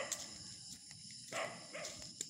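Four dogs on an early-morning walk give a few short barks and yips, spaced out over a soft outdoor background, with no one talking.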